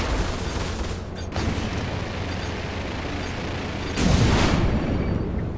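Missile launch in the space game Star Citizen: a constant, dense rumbling roar of engines and weapon noise that swells into a louder, brighter blast near the end.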